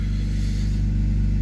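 A BMW car cruises along with a steady, loud low engine drone and road rumble, heard from inside the cabin without any talking.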